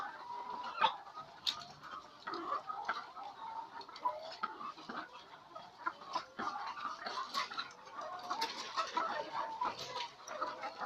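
Laying hens on an egg farm cluck and chatter continuously, many birds overlapping at moderate distance with scattered sharper squawks and occasional clattering, forming a busy, steady flock murmur.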